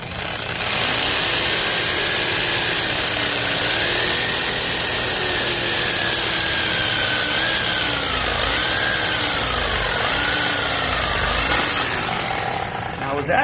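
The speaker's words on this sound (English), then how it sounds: "we're going to resort to power tools." Power tools cutting into parts during a teardown of a 429 police interceptor car, a steady loud whining drone with rising and falling pitch sweeps running for the whole stretch.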